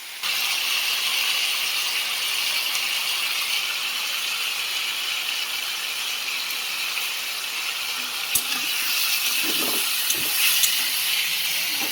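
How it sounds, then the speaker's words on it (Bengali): Pumpkin and potato sizzle in hot oil with panch phoron and a green chili in a wok, a steady close hiss running throughout, with a few brief scraping knocks from stirring near the end and no voices. "এবার সবজিটা ভালো করে একটু ভেজে নেব নাড়াচাড়া করে।"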